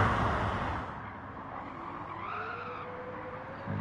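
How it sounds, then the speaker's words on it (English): Car tyres skidding and burning out in a racing video game, a loud continuous squeal over engine roar that dips and wavers in pitch for a few seconds, with no talk over it. "Harvey's tyres burn out"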